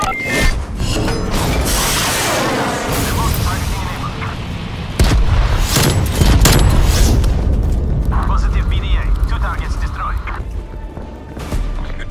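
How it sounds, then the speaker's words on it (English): A cruise missile strike in Call of Duty Black Ops Cold War multiplayer lands as loud, heavy booming blasts with rumbling debris, a sustained barrage of explosions and gunfire stretching across the whole stretch. "Cruise missile inbound."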